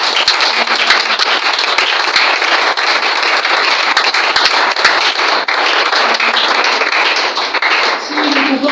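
A congregation applauds in church during a youth prayer gathering, a loud, dense burst of clapping that lasts throughout with a few sharper claps standing out.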